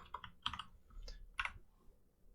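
Faint, close keystrokes on a computer keyboard while typing code, a handful of separate clicks spread irregularly over a couple of seconds with no talk.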